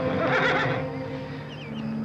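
A horse in an old western drama lets out a short whinny near the start, then it fades into a quieter, steady background.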